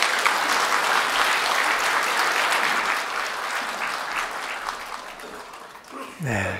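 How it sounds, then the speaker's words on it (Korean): Steady applause from a church congregation welcoming a pastor to the pulpit at a Sunday service, dense and sustained for several seconds, thinning near the end as a voice breaks in briefly. "나오실 때 박수로 모시겠습니다"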